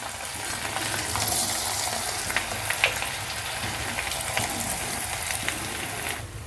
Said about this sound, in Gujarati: અહીંયા આપણે ફટાફટ બટેટા નાખી દેવાના છે।